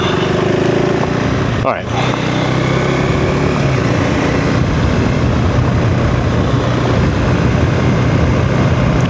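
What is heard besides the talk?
KTM 390 Enduro R motorcycle engine, throttle closing off-road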